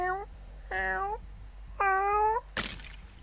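A cat meows in the Dead by Daylight horror game, three drawn-out, wavering cries in a row, fairly close and clear, followed by a sharp thump.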